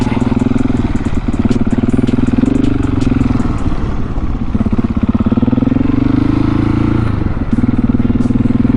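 A KTM 701 single-cylinder motorcycle revving hard in second gear during wheelie practice, its loud, close engine droning and rising with a few throttle surges and dips, with no talk over it.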